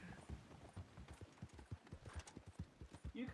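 Horse hooves clip-clopping in Red Dead Redemption 2, a quick steady trotting rhythm of soft thuds close by, continuous throughout, with no talking over it.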